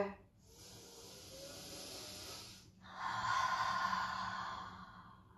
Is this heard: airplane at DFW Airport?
no